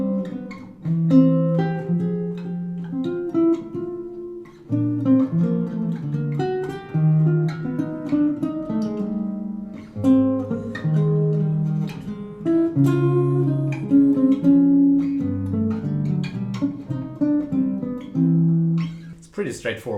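Solo guitar works through a counterpoint cycle, with moving inner lines over sustained bass notes and plucked chords in a steady, unhurried rhythm, close and clear.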